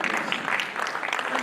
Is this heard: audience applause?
yes